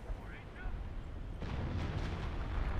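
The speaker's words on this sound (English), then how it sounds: "Where is this artillery going down?" Artillery in Company of Heroes, a World War II strategy game, opens with a muffled distant rumble, then a broad barrage of booming impacts rolls on continuously and loudly.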